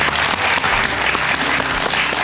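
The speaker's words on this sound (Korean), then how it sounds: "시청자 여러분들도 박수를 한번 기원해드립니다." Studio audience applause on a Korean television talk show, loud, dense and steady clapping from many hands filling the whole stretch with no voices over it.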